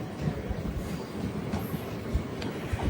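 A special passenger train from Kakinada to Mysore rolls along the rails near Nalgonda, giving a steady low rumble with soft rhythmic clatter throughout.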